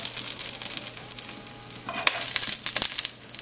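Chiles and onions frying in a pan for carne en su jugo: a close, fairly quiet crackling sizzle with bursts of spitting and a few sharp clinks of a utensil partway through.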